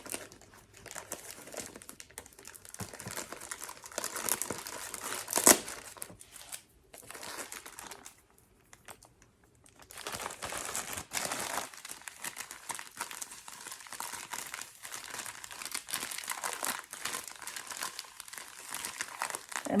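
A bag of coconut coir fibre is handled and poured out, producing close, dry crinkling and rustling with irregular bursts, brief pauses and a loud crackle partway through, with no talking.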